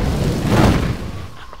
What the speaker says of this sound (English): Triggers an explosion.